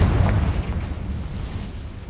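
Confringo fire spell from Hogwarts Legacy bursting in a cave: a deep, rumbling boom at the start that trails off into a low, sustained roar, loud and close with no talking.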